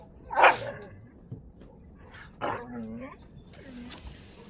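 Close-by puppies give a few short yips and barks, broken by thin whimpers, with quiet pauses in between.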